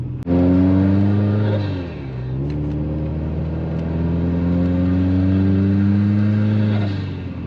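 A 2005 Subaru Legacy GT wagon with a fat single-exit exhaust revs up loud and close, dips briefly, then holds a steady, droning high-rpm note before easing off, with no voices.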